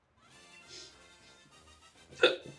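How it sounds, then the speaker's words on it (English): A single sharp hiccup pops out near the end of a quiet stretch, faint and close, during a live Pokémon shiny-hunting game stream with soft game music underneath. "Oh, hiccups."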